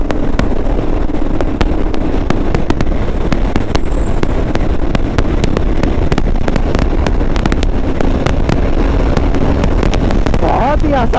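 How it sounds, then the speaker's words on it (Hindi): Strong wind roars into the microphone on a full-throttle BSA Goldstar 650 ride, a loud steady rush mixed with the single-cylinder engine's drone and rapid buffeting gusts throughout. "इतना तेज हवा चल रहा है, इतना भयानक हवा चल रहा है"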